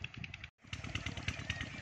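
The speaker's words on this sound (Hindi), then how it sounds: "ये देख रहे हैं खेतों में ट्रैक्टर चल रहा है।" A tractor engine runs steadily in farm fields, a quiet, continuous rhythmic chugging with a brief gap before it resumes.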